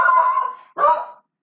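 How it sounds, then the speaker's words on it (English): A dog barks at people arriving at the front door, two loud, close, drawn-out barks with a short gap between them, no voices over them. "Dog's going nuts."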